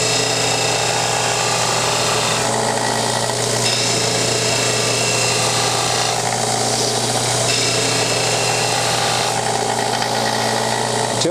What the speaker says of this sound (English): I've got to grind the leading edge of these flat and even where they're going to meet the handle